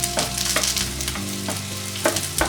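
Two large chopped onions and a piece of cardamom frying in a pan for a Maharashtrian vaal usal, a loud continuous sizzle with bursts of crackle and stirring, no voices.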